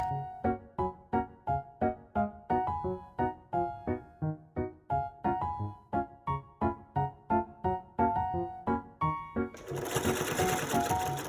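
Close, loud sewing machine stitching a bag in a fast, even rhythm of mechanical thumps, shifting into a brief burst of broadband noise at the end.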